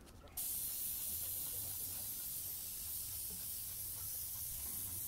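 A spray gun lays a blending coat on a degraded thermoplastic panel during a plastic repair, giving a continuous close hiss that starts abruptly and holds steady without a break.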